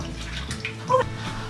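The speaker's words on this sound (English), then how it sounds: "You have to wash your hands. Well, I know that. Like soapy water." Hands washed in soapy water at a sink, with soft close sloshing and running water and a brief brighter splash partway through.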